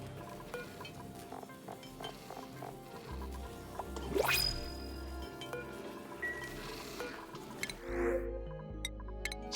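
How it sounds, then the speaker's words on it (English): Water poured into an apothecary vessel to mix with gunk in a video game, heard as liquid clinks, drips and glassy plops over a busy background, with a rising pour-like sweep in the middle. "they're adding water into the apothecary to mix with the gunk"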